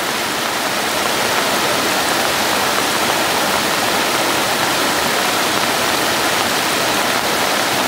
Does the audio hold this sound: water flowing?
yes